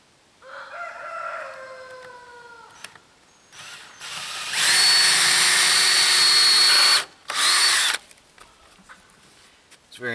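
A power drill bores hinge holes into pallet wood for a picket fence gate, a loud steady whir lasting a few seconds and then a brief second burst, after a stretch of quieter sounds.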